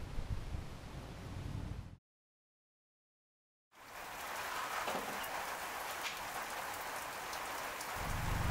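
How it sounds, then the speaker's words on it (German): Steady rain falls outdoors during a mountain hike, a dense close hiss of drops on surfaces with a break of silence partway before the downpour resumes just as loud. "So, heute regnet es wieder mal schön."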